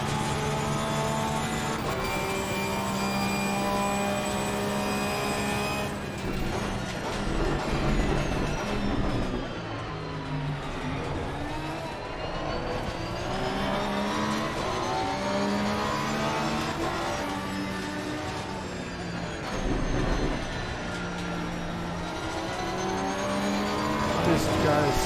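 Race cars in the Assetto Corsa Competizione endurance race at Monza: engines roar and rev through gear changes, rising and falling pitch as cars are overtaken, loud and continuous with a near engine throughout.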